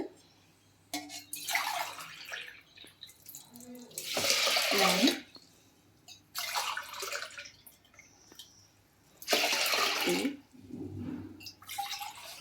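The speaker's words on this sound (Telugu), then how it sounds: "టూ అండ్ హాఫ్ గ్లాసెస్ అయితే వాటర్ వేస్తున్నానండి" Water pours into a pot for black gram lentil dough in several separate bursts, each a loud rushing splash lasting about a second, with short pauses between them.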